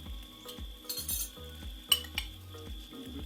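Onions sizzle softly in a small raclette pan, faint frying under repeated low scraping and clinking of utensils in a steady rhythm.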